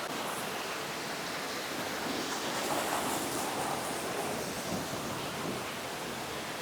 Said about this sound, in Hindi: हम आ चुके हैं वाटरफॉल में।